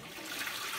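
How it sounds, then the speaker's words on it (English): A toilet flushes after being cleaned, a steady rushing wash of water heard close and alone with no talk. "flush the toilet"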